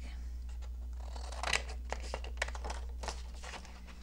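Scissors snip paper pieces for a collage in a quiet room, a series of faint crisp cuts and crinkles spaced irregularly over a low background hum.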